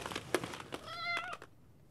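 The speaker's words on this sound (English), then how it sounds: "Oh, a cat." A cat gives one clear, drawn-out meow close by, preceded by a few soft clicks and rustles, then quiet.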